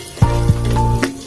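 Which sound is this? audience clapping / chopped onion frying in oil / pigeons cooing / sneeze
chopped onion frying in oil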